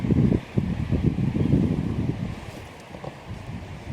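Wind buffets the microphone in low, rumbling gusts at a winter campsite, loud at first and easing slightly, with no one speaking.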